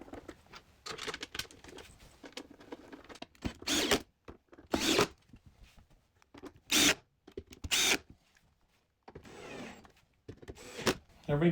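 Back panel of a Boss Katana amp being screwed on, with bursts of screwdriver whirring and scraping separated by short pauses, close and fairly quiet, alongside handling noises.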